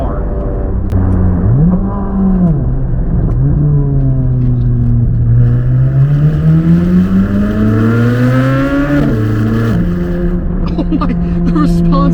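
A Chevrolet C8 Corvette Z06 engine heard from inside while driving, loud and close, its note climbing and dropping through repeated pulls and shifts, with someone talking over it.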